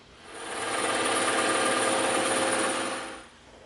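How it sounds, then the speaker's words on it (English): A bandsaw slices through EVA foam while building a foam EE3 carbine prop, a steady buzzing whine that swells in over half a second, holds loud and even for about two and a half seconds, then fades away. "we're going to cut this out on the bandsaw"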